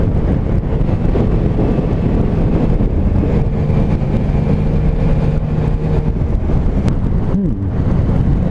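Strong wind buffets the microphone while riding a three-wheeled Yamaha Niken motorcycle, a loud continuous rumbling roar under the engine for the whole stretch, with no talking.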